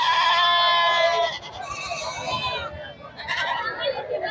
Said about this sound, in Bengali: ব্ল্যাক বেঙ্গল ছাগল